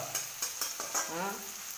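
Hot oil sizzles while something is stirred in a pan, with a few scraping strokes in quick succession.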